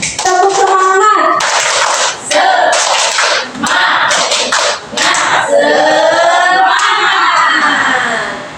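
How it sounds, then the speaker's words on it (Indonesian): An audience of teachers at an Indonesian school training session performs a rhythmic group 'tepuk semangat' clap, loud, close bursts of many hands in several phrases with brief pauses, mixed with voices chanting and calling out together. "Tepuk semangat dulu."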